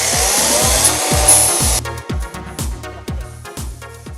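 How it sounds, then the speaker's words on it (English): An angle grinder fitted with a grinding wheel, clamped in a posable vise, whining loudly for under two seconds, then cut off into a rapid train of rattling, knocking pulses as it winds down, with no voices. "I put the inHD grinder, angle grinder with a grinding wheel in my Stanley posable vise"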